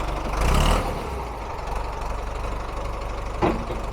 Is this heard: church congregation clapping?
no